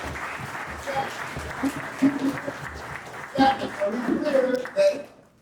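Scattered audience applause at a men's group session, with clapping rising and falling in bursts, some chuckling and voices talking over it throughout.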